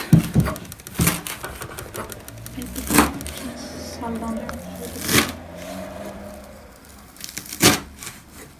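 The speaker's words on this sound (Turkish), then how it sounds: "Şimdi de doğrayıp tuzda atacağız." A knife chops parsley against a board in sharp, separate strikes every couple of seconds, with softer rustling and handling sounds between them.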